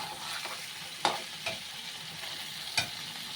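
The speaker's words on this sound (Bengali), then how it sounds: "এখন আমি এখানে একটু জল দিয়ে দেবো মাংসটা ভালোভাবে আরেকটু সিদ্ধ হওয়ার জন্য" Mutton sautéing in a pan as water is added, a soft continuous sizzle with a few sharp stirring knocks against the pan, fairly quiet and without talking.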